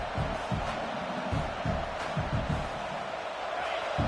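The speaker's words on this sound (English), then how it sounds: "The crowd getting behind this defense as they try to get a stop in the red zone" Fans in a college football stadium at Ole Miss at Nebraska cheer for the defense during a red zone stand, a broad, steady roar of crowd noise with scattered shouts and thumps.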